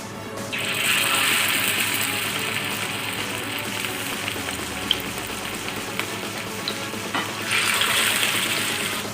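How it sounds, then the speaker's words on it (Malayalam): Chapli kabab patties frying in hot oil in a frying pan, a loud, steady broadband sizzle running throughout with brief crackles and a few louder surges, no talking. "ഫ്രൈ പാനിൽ എണ്ണ ചൂടായിട്ടുണ്ട്, അതിലേക്ക് കബാബ് ഇട്ട് കൊടുക്കാം."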